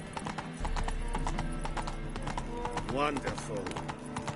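Roach, the horse in The Witcher 3, runs with rapid clip-clopping hoofbeats close by, and a short neigh rises near the end while someone speaks over the hooves.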